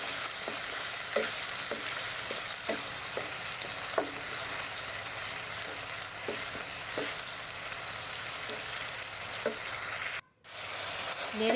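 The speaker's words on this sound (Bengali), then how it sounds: "এটাকেও আমরা ভালো করে ভেজে নেব যতক্ষণ পর্যন্ত আদা রসুনের কাঁচা গন্ধ চলে না যায়" Blended ginger and garlic spice paste frying in a pan, a steady dense sizzle with small scraping stirs at intervals and a brief dropout near the end.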